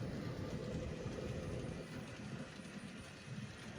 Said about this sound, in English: All right, here comes the N scale.